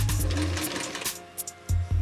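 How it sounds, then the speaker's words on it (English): Sewing machine backstitching at the end of a seam, a close whirring stitch run that pauses and restarts in short bursts with a low motor hum. "And again at the end, I'm going to backstitch."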